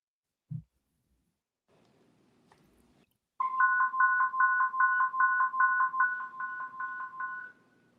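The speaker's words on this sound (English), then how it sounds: "That's a phone." A phone rings with a rapid warbling electronic trill repeated in quick bursts for about four seconds, loud and close, after a brief thump and a faint murmur of background noise.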